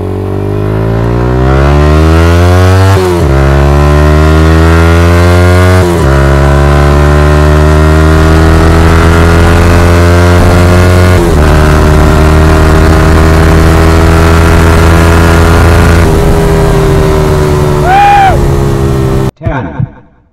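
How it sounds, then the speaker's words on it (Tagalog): A Yamaha XSR155 motorcycle fitted with a Yoshimura R77 exhaust runs loud and close, its engine droning steadily with several rev blips and rising pitch sweeps over about twenty seconds before cutting off abruptly near the end. "mag-sound check tayo ng XSR155 na naka Yoshimura pipe"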